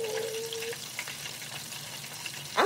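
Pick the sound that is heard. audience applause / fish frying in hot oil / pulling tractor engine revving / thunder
fish frying in hot oil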